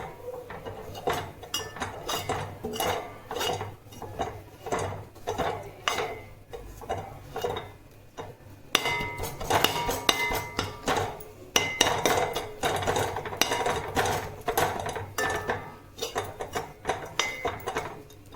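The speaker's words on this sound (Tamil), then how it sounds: "நம்ம இதை கொத்து பரோட்டாக்கு கொத்துற மாதிரி இப்படி கொத்தி விடணும்." Chapathi egg kothu being chopped in a pan with a metal spatula: a steady run of rapid, sharp clanking strikes against the pan, close and loud, growing busier and denser partway through.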